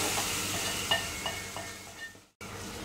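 A spoon stirs cumin powder into chicken nihari masala in a pan, with faint sizzling and a few soft scraping strokes and a brief drop-out near the end.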